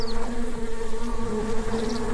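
Bees buzz continuously in the retro RPG Secrets of Grindea, a loud steady droning hum with no talk over it.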